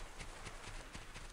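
Steady clip-clop of horse hooves from the video game Black and White at a trotting rhythm, close and fairly quiet over a low background hum.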